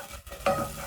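Onions stirred in a cooking pot while making creamy coconut lentils. A brief, close spoon scrape comes with a soft sizzle, heard alone and quietly.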